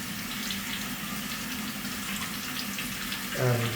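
Water running steadily from a tap into a laundry sink, a low continuous hiss and splash, fairly quiet, with a brief thicker gush near the end.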